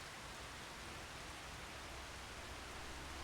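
Steady rain with some hail mixed in, falling in the farming video game Farming Simulator 25, a dense, even hiss that holds constant and fairly loud throughout with no voices.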